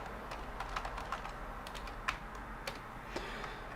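Soft, quick clicking of typing on a computer keyboard, irregular keystrokes with a few sharper taps, fairly quiet and close, no voices.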